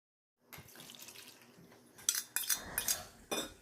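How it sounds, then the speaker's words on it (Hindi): Boiled mango slices are poured into a strainer, water splashing and draining in short bursts with a few metallic knocks of utensils, close and moderately loud after a quiet start. "10 मिनट के बाद में हमें इन आम के स्लाइसेस को स्ट्रेन करना है।"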